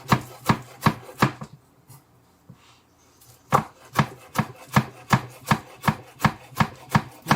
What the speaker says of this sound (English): I'm just going to chop these as thin as I can